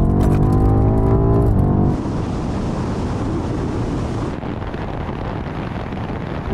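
A BMW M8, M5 CS and M5 Competition launch in a drag race, a loud engine note with rising gear tones giving way to a roaring rush of road and wind noise from inside the car.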